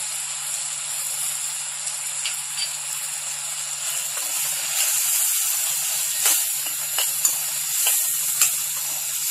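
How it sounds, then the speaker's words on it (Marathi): Red chili powder sautéing with taro (colocasia) leaves in a hot pan gives a bright, steady sizzle and hiss, with occasional crackles and stirring clicks building toward the end, no voices. "लाल तिखट घालून चांगलं परतून घ्या"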